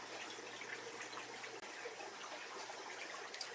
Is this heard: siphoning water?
yes